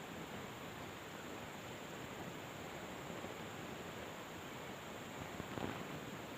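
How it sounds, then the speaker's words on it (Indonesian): Flooded river flowing, a steady broadband rush of water heard continuously at moderate distance, fairly faint and unbroken, with no voices. "Tuh sungainya banjir."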